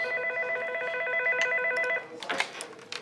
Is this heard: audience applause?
no